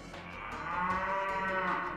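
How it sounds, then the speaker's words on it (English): A cow moos in the video game Miitopia, one long drawn-out low call with rich harmonics, heard clearly and alone. "That's a cow."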